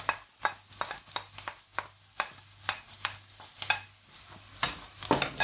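Cut green beans tossed into onions frying in a hot pan, with a spoon stirring in a steady rhythm of scrapes and clatters over a soft, continuous sizzle, heard close with no talking.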